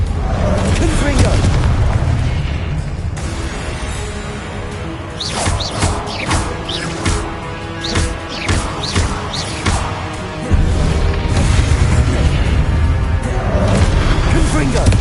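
Confringo blasts from Hogwarts Legacy go off in a rapid string of loud, sharp booms and bursts amid heavy combat noise and a rumbling game score, with a voice talking over parts.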